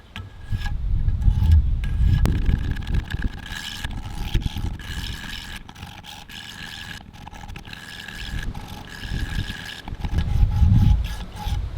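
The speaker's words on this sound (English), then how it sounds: "now this is a fairly damaged blade, so we'll go down to our 100 grit and we'll start working on the edge" A damaged knife blade is ground on a coarse 100 grit sharpening stone, giving rough, repeated rasping strokes in a steady back-and-forth rhythm, close and fairly loud with no talking.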